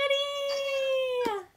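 A cat gives one drawn-out meow lasting over a second, fairly clear and close, tailing off at the end, with a brief noise near its close.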